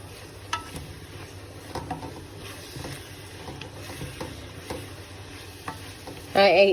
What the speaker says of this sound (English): And I'll give that a little mix through